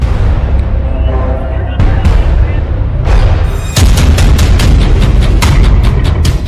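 Bombs and missiles exploding during air strikes on Yemen: heavy, loud booms and rapid blasts in dense succession, one burst after another with sharp cracks over a constant roaring rumble.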